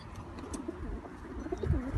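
Soft pigeon coos murmur in short, low rolling phrases against a quiet background, fairly close, with no one speaking.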